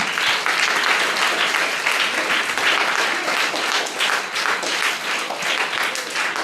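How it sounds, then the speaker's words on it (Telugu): Sustained applause from a large group of children and adults at a church Vacation Bible School gathering, dense and steady clapping that continues throughout without a break. "దేవునికి చప్పట్లు కొడదాం బిగ్గరగా"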